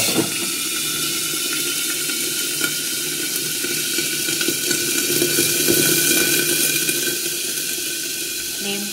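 Asafoetida water poured into hot cooking oil with cumin seeds for goat liver, bursting into a loud, sustained crackling sizzle that lasts throughout with slight swells, close up and without talk.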